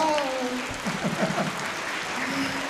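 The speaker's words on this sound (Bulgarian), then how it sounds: "Поклон, аплодисменти." A concert audience applauds, a soft, continuous patter of clapping heard at a distance while voices and faint tones carry over it.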